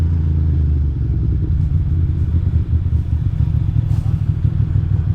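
A Ducati Monster 620 motorcycle engine running nearby, a loud, steady low rumbling idle with a lumpy pulsing beat throughout.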